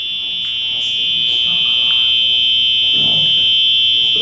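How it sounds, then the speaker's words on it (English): A fire alarm system under test gives off a steady, piercing electronic buzz that holds a single loud tone throughout, with faint voices in the background beneath it. "They're testing the fire alarm system, please disregard."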